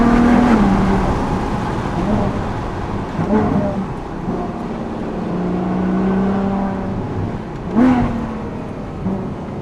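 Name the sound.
Ferrari FF naturally aspirated V12 engine accelerating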